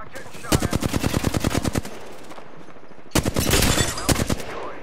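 Rapid automatic gunfire in a shooting video game crackles in two dense bursts, a long volley followed after a short pause by a second heavy salvo, loud and close.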